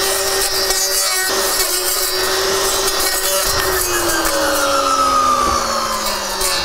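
A cordless Greenworks 40V trimmer blade whirs steadily as it cuts holm oak shoots, its high whine sliding down in pitch as the blade slows.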